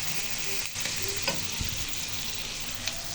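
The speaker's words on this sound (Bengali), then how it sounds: "রসুন, দারচিনি, এলাচ, শুকনো মরিচ দিয়ে হচ্ছে অনেকক্ষণ ভাজবো।" Garlic, cinnamon, cardamom and dried chilli fry in a generous amount of oil for a chicken masala, giving a steady, close sizzle with a few soft stirring knocks over the hiss.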